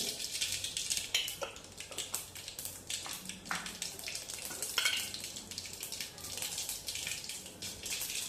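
Mustard seeds fry in hot oil while making North Karnataka Betageri chutney, a fairly quiet crackling sizzle dotted with sharp pops and spits throughout, with no speech.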